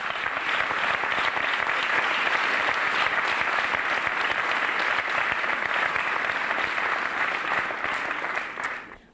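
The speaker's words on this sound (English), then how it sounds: "So please give yourselves a huge round of applause." Sustained applause from the audience at the final rounds of the Jessup international moot court competition, a dense steady clapping that fills the room for about eight seconds before tapering off at the end.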